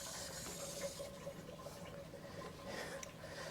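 Pipe water runs steadily and faintly as something is washed by hand, a continuous soft hiss with small splashes and shifts in the flow.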